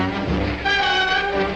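A long freight train of 214 cars, broken into sections, rolls along the tracks picking up speed, a steady loud rumble with tonal squeal or horn-like overtones, no voices.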